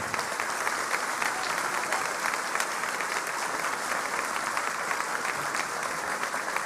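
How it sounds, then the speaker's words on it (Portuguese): A church congregation gives warm, sustained applause, a dense wash of many hands clapping steadily throughout at even, moderate loudness with no break. "Os irmãos querem mesmo aplaudir ao Rei com uma calorosa salva de palmas, demorada, com força."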